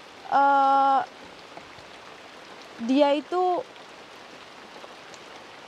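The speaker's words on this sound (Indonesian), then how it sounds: "makanya tiba-tiba hujan deras seperti ini teman-teman" Heavy rain pours steadily as a continuous broadband hiss, with someone talking briefly in bursts over the downpour.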